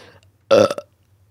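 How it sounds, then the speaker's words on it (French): A woman lets out one short, loud burp, close and clear, with faint background voices before it and silence after. "Dans toutes mes vidéos, je faisais un rot."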